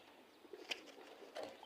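A banded, stamped pigeon gives a soft coo and a faint later call, quiet and close against a low background murmur.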